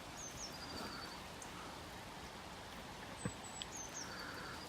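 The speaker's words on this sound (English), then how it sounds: "I hear the birds singing in the trees." Faint, distant birds chirp in a few brief high calls over a steady soft hiss of outdoor background noise.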